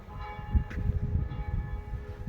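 A church bell rings from a bell tower on a square by the Palace of the Republic in San Marino, a steady resonant tone heard from a distance over low outdoor rumble.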